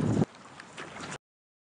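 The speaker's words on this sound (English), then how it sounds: "It is so windy out right now." Blustery wind buffeting the microphone, a loud gust at first then a steadier rumbling rush, with faint water-like gurgles.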